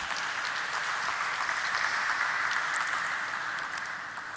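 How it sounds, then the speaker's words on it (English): An audience applauds at a company stock-listing ceremony, a sustained even wash of many people clapping, moderately distant and without talk. "A big round of applause to each one of them."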